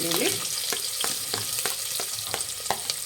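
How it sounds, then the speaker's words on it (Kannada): Sliced onions fry in hot oil in a pan for a drumstick biryani, giving a continuous close sizzle broken by regular scraping stirs of a spatula. "ಈರುಳ್ಳಿ ಫ್ರೈ ಮಾಡಿ."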